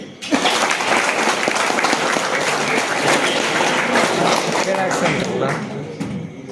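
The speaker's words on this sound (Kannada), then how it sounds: "ಒಂದು ಚಪ್ಪಾಳೆ ಬರಲಿ." An audience at a student hostel function bursts into hearty clapping that carries on steadily for several seconds, with a voice talking over part of it.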